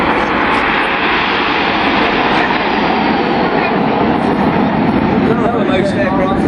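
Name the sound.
Red Arrows jet aircraft flying in Diamond formation at airshow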